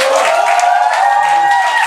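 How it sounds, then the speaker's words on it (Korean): A comedy show audience breaks into applause, a loud, continuous roar of clapping and crowd noise, with a few cheers rising above the steady patter. "어, 여러분 박수 좀 주세요!"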